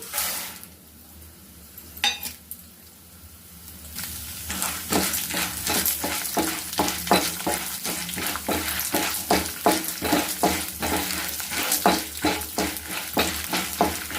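Chana dal dropped into hot oil for curry leaf powder crackles in a pan. A quiet stretch gives way to a steady, close sizzle with rhythmic scraping stirs and utensil clinks, and no talk.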